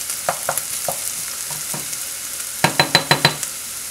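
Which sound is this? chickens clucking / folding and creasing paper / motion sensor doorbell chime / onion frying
onion frying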